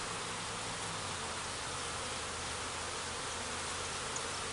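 Honeybees swarm around a frame lifted from a healthy hive, a dense, steady buzzing that fills the air close by and stays even throughout, with no voices over it.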